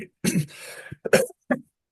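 A few harsh coughs in quick succession, close and fairly loud, with short pauses between the bursts.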